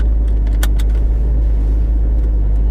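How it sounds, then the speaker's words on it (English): Porsche GT3 RS 4.0 flat-six idling close by with a rattly flywheel giving a gritty, grinding scuttle, a steady loud low rumble throughout with a few brief metallic clinks over it. "It's got like that race car like scuttle, doesn't it? Well, that's the flywheel, so it sounds like a pepper grinder."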